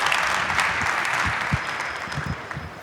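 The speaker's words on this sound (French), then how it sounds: "Un applaudissement, s'il vous plaît." An audience applauds a guest at a cacao industry event linking Italy and Côte d'Ivoire, a steady wash of clapping that runs throughout without a break.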